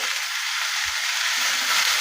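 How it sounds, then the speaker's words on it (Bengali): Snake gourd fries without salt in a pan, giving a steady, close, continuous sizzle with a few faint stirring bumps and no talking. "চিচিঙ্গাটাকে একটু ভাজা ভাজা করে নেবো"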